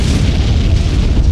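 A loud, sustained anime explosion rumbles with a deep, continuous low roar and crackling debris for over a second, with no voices over it.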